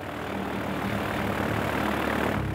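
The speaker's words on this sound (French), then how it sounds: "Chip et son copilote doivent suivre Big Flo dans un avion plus petit, un Cessna 337" Cessna 337 twin-engine aircraft droning steadily and loudly at close range, a continuous propeller engine roar with no talk.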